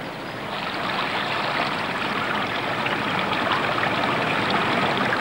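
Water flowing through soil treatment beds set side by side on different gradients, a steady, dense rushing and trickling like a stream, continuous and fairly loud without any talk.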